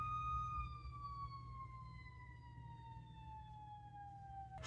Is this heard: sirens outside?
yes